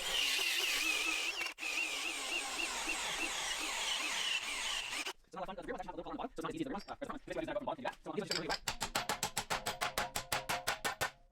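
A hole saw in a power drill cuts through material in a garage shop, a steady loud grinding whine for about five seconds before stopping, followed by short clunks and a rapid rattling burst of repeated strikes.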